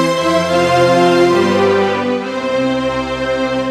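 A Yamaha PSR E463 keyboard plays a piano and strings dual voice, sustained rich chords ringing out clearly and alone, swelling and then settling as the notes hold.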